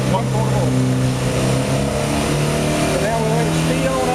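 The pony motor starter engine on a John Deere model 80 two-cylinder diesel tractor runs steadily and speeds up, a loud continuous engine drone with no talking.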